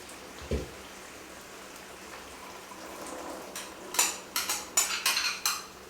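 Chickpeas tipped into a pot of boiling green coconut curry: a soft thump, then a close burst of quick clattering, splattering hits that trail off.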